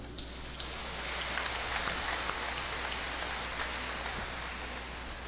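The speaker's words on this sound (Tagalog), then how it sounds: "Pwede ba palakpakan nato ni sila?" Church congregation applauding during a homily, a steady dense patter of many hands clapping continuously with no talk over it.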